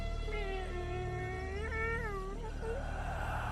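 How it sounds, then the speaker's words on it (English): A kitten meowing in the woods, a sustained, wavering plaintive cry with rising and falling pitch heard clearly and close over a steady background hum. "I heard the meow again."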